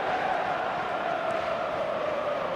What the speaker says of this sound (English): the crowd have tried to spark some excitement